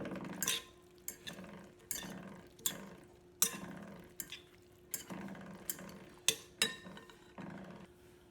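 Caesar salad tossed in a bowl with utensils: a run of about fourteen sharp clinks and scrapes in an uneven rhythm, close and clear, over a low steady hum with no talking.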